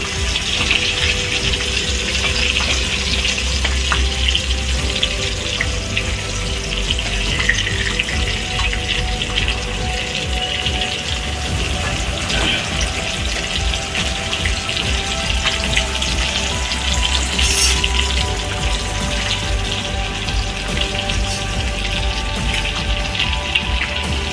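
Pointed gourd (potol) frying in a pan makes a continuous dense sizzle and crackle, loud and even for the whole stretch, with no voices.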